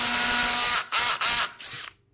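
Cordless drill driver set to a low clutch setting, its motor whining loudly then stalling and slipping in choppy bursts with brief gaps, ending in a short ratcheting clutch chatter before falling silent.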